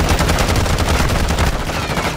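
Rapid, dense video game gunfire crackles continuously for a couple of seconds, loud and close, with shots blurring into a constant burst.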